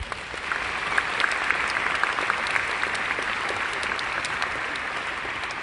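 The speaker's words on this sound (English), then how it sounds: "I ask that you give them a round of applause." An audience at a graduation ceremony claps steadily, a dense wash of applause that holds its level throughout with no voices over it.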